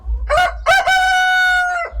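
A Rhode Island rooster on a small backyard flock gives one loud, close cock-a-doodle-doo, a short two-part opening followed by a long sustained final note, with no talk over it.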